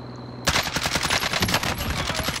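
Fully automatic CR-56 AMAX assault rifle fire in Warzone, one loud, fast continuous burst of closely spaced shots that starts abruptly and runs to the end.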